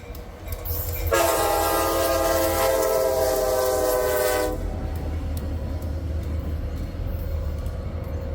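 Wheeling & Lake Erie 5413, a freight train, blasts a loud, steady horn for about three seconds close by, while the heavy rumble of the passing train continues underneath before and after.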